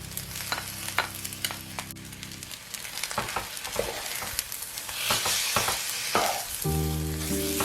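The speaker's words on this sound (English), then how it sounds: "add in the kimchi and stir briefly" Kimchi is stir-fried briefly in a pan with the other ingredients of a kimchi fried rice: a close, loud sizzle with scraping stir strokes and bursts of crackle. Short musical tones play at the start and at the end.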